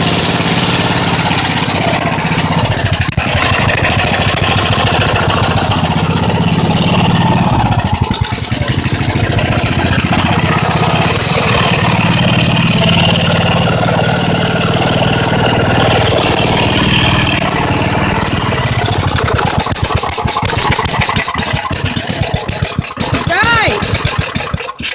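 Freshly started engine runs at a steady, loud idle throughout, with a slight rattle and people talking over it.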